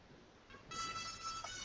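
A telephone rings in a classroom-style business lesson, a short electronic ringtone tone sounding on its own at moderate level for under two seconds.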